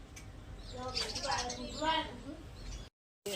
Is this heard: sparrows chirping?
yes